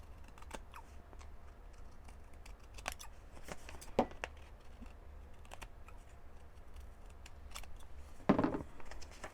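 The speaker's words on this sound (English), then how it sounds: "I'm going to barely cut that fold off" Scissors barely trimming the fold off a folded sheet of paper for mini coin envelopes, faint sparse snips and light paper rustles, quiet and close, with two slightly louder cuts.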